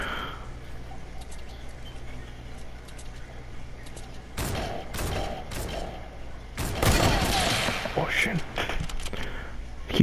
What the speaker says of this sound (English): Keep shooting, keep shooting. He's gonna try and snipe you.